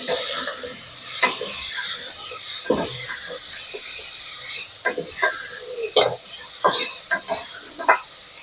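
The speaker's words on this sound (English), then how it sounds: "let's wait for the onions to simmer and cook" Onions cooking with pork in a pan with no oil, giving a steady close hiss and sizzle broken by scattered scraping stirs of a utensil.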